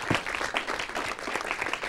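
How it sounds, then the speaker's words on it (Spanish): Applause from a studio audience on an Aguascalientes youth discussion programme, a steady patter of many hands filling the short stretch at moderate, even loudness, with faint voices underneath. "Un aplauso también para Elena, psicóloga también."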